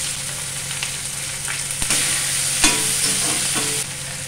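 Chopped onions sizzle steadily in a hot pan while a utensil stirs them, with scraping clinks now and then; no one speaks.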